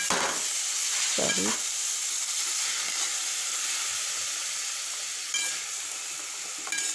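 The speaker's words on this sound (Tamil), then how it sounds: "கொத்தமல்லி வந்து ஒரு 2 நிமிஷம் போதும், நல்லா வதங்கிடும்." Coriander leaves sauté for chutney in a pan, giving a steady close sizzle with bursts of scraping as they are stirred and turned; one brief spoken word.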